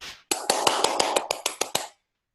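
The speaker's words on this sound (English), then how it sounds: "I can clap my hands if I want to" A pair of hands clap about ten times in a quick, fairly even rhythm, close and alone, each clap sharp and distinct before silence.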